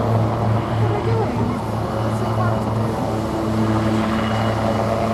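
AgustaWestland Wildcat helicopter flying at an air show, its steady rotor and engine drone rumbling continuously under a commentator talking over a loudspeaker.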